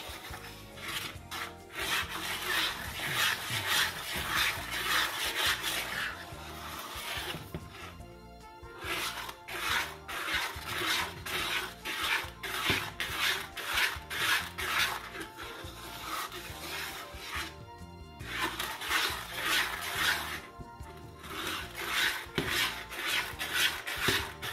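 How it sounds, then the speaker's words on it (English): Condensed milk fudge being stirred in a pot for a Guyanese recipe, a steady scraping and rubbing of the spoon against the pot, repeated in continuous strokes with brief pauses, close and fairly loud with no talk. "Keep stirring."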